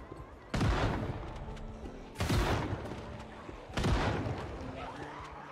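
Gunfire in the zombie survival video game Project Zomboid: three loud, sharp shots spaced about one and a half seconds apart, each with a booming tail that fades into the background.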